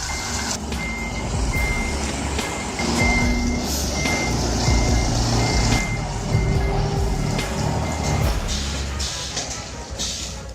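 A 98-foot truck trailer backs up through tight streets, its backup alarm repeating steady regular beeps over a loud, continuous diesel engine rumble, with a few brief louder swells of engine and air noise.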